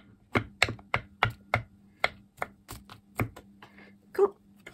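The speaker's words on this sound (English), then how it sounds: "And we're going to chop that up." Knife chopping food on a cutting board for mushroom stuffing, a dozen or so close, evenly spaced thuds at a steady rhythm, with a faint brief sound near the end.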